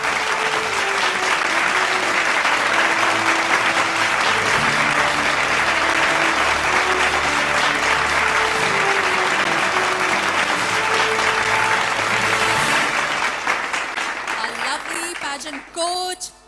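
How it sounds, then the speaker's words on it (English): An audience at a pageant finale gives the choreographer a loud, sustained round of applause with music playing beneath, the clapping tapering off near the end as a voice comes in. "Can we have a huge round of applause for Jude Felix?"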